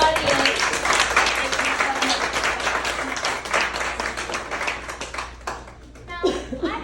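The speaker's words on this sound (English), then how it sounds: "a round of applause from our audience" A studio audience breaks into a steady round of applause, dense clapping that holds for several seconds before thinning out near the end, with a few voices mixed in.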